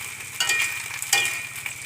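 Gareng pung cicadas frying in a pan, a steady hiss of hot oil with brief louder crackling bursts, close and alone without voices.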